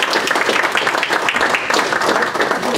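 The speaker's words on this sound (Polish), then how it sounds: "tutaj należą się wielkie brawa" Applause from the audience at a city council session in Poland, a dense, steady wash of clapping filling the whole stretch at fairly close range, with no break.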